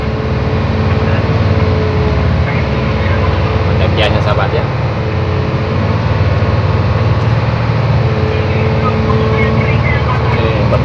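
A Hino 500 dump truck engine labors at around 2000 rpm while climbing a steep mountain slope, a constant loud drone heard from inside the cab as someone talks over it.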